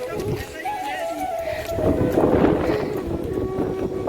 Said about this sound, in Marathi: वारासुद्धा एकदम मस्त वारा लागतोय